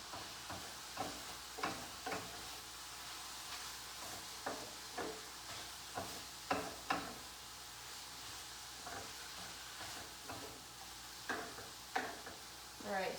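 A spoon stirs wilting spinach in a hot pan for gluten-free pasta, giving a steady sizzle and hiss punctuated by a dozen or so soft taps and scrapes in an uneven rhythm, close and fairly quiet.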